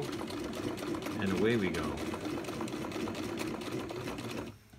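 A Brother Boutique 751 sewing machine runs a few straight stitches, a rapid steady mechanical chatter close up beneath a speaking voice, stopping abruptly just before the end.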